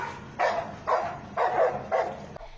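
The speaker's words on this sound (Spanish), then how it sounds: "Esta vez es el ladrido de la victoria." A search and rescue dog barks after locating a survivor, giving four loud, evenly spaced barks close by with no other sound around them.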